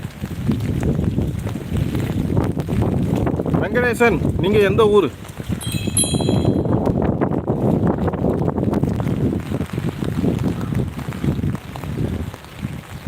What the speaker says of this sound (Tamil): நல்லா காற்று மட்டும் தான் இருக்குது